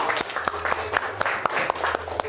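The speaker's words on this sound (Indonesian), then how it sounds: "Oke, tepuk tangan untuk kelompok 5." Classroom applause for a student group, a scattered patter of hand claps with several sharper individual claps standing out, moderately close and lasting a couple of seconds.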